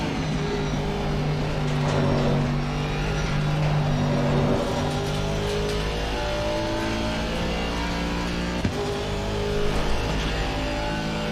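Racing cars in a video game roar on a steady engine drone, with whining revs shifting up and down as they run together, continuous and fairly loud with no talking.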